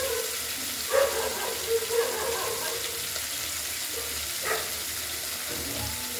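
Katla fish pieces frying in a pan, a soft continuous sizzle with a few light knocks and clinks as the pieces are turned.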